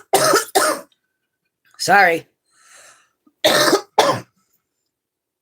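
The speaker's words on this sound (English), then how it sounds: "Had to cough." A person coughs several times in quick, close, loud bursts, with a brief spoken apology mixed in between the coughs.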